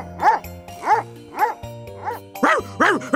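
A dog barks repeatedly, about seven sharp woofs at a steady pace, close and clear over a light musical backing.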